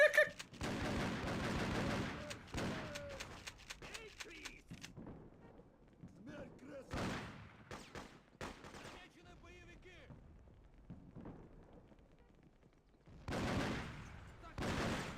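Bursts of rapid gunfire from the video game Freedom Fighters, a loud spray of shots at the start and again near the end, with scattered shots and quieter gaps between.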